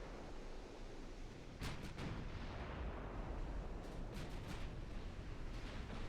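Naval artillery from 15-inch guns in Ultimate Admiral Dreadnoughts booms over a constant roar of sea and battle noise, several sharp reports standing out midway and toward the end.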